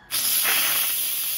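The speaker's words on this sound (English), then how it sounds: "we need to release the steam" An Instant Pot venting pressure after cooking chicken arroz caldo: a loud, steady steam hiss bursts in abruptly and holds strong and close for over a second with no pause.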